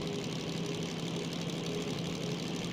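DM3 diesel locomotive in the Derail Valley train game, running under throttle with a steady low engine drone and rumble, continuous and unbroken, with no one talking.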